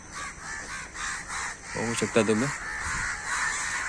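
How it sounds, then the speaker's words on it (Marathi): Several harsh crow caws ring out in a quick cluster midway from above an amla tree in Maharashtra Nature Park, Mumbai, with a few fainter calls around them and a person speaking briefly. "वरती सगळे कावळे ओरडतात आहे"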